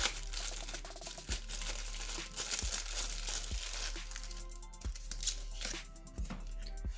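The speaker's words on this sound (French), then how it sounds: "On va quand même déballer." Plastic parcel packaging from an online order is unwrapped, its soft transparent wrapping crinkling and rustling continuously up close, broken by several sharp crackling snaps.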